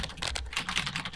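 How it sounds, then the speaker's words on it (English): Rapid keyboard typing in the chat game Emily Is Away, a steady patter of close, crisp key clicks running through the whole moment with no voices. "It's weird just typing anything and you type out a perfect sentence"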